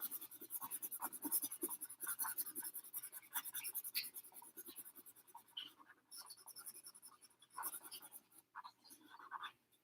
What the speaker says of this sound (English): I'm just coloring it in different colors.